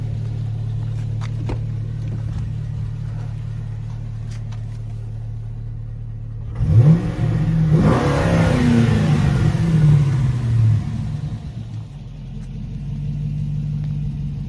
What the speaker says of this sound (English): I'll give you guys a couple revs.